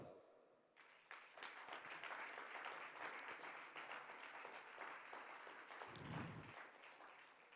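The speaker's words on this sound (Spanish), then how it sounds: "Pero yo le daría un aplauso" A congregation at a Christian sermon breaks into applause after a brief quiet moment, the many-handed clapping swelling quickly and holding steady, with a low murmur of voices rising briefly near the end.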